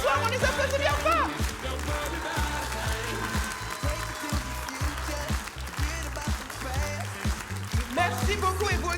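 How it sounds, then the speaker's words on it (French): Theatre audience gives stage directors a sustained round of applause, a dense wash of clapping hands throughout, with music playing underneath and a voice speaking over it. "on les applaudit bien fort."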